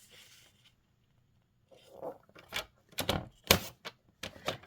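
Designer series paper cut on a trimmer, with a run of sharp slicing and clicking strokes that start after a quiet pause and come close and loud, with no talk.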